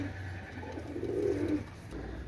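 A pair of Chinese teddy pigeons give a soft, low coo up close, one brief murmuring call rising and fading over a quiet background.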